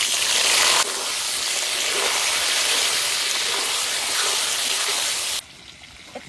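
Potatoes sizzle and crackle loudly in hot oil already used for frying fish, at a village cookout, as a dense, steady hiss that abruptly drops to a quieter simmer near the end.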